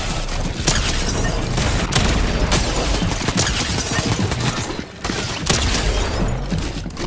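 Dense, loud bursts of shotgun fire in a video game, rapid repeated blasts one after another over a constant backdrop of game noise, with only a brief lull near the end.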